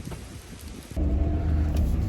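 Rain falls during a hike at Bridalveil Falls as a steady broadband hiss, and it swells into a louder, heavier downpour partway through.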